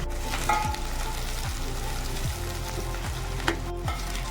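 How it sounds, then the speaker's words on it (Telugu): Chopped onions and green chillies frying in hot oil for potato kurma, a loud, steady sizzle with occasional stirring scrapes and clinks against the pan, close and continuous with no talk. "ఇప్పుడు ఆయిల్ హీట్ అయింది కదా, ఇందులో మనం కట్ చేసి పెట్టుకున్నటువంటి ఆనియన్స్ వేసుకోవాలి."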